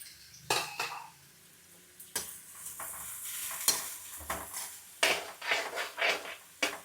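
Green chillies, onions, curry leaves and coriander fry in a pan with crackling sizzle and repeated metal spoon scrapes and clanks against the pan, loud and irregular, with no voices.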